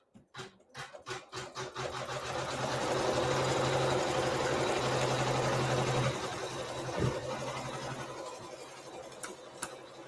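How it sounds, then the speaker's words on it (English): A sewing machine stitches quilting onto background fabric in a quilt-in-the-hoop setup, a steady close mechanical whirring hum that runs for several seconds, starting after a few ticks and ending in scattered clicks. "we're going to stitch our quilting on our background fabric really quick"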